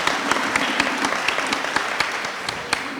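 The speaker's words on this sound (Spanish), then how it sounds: "Demos un fuerte aplauso" Audience applause at a panel event on education in the digital era, with individual claps standing out as sharp accents in a steady, moderately close round of clapping, joined by a faint voice.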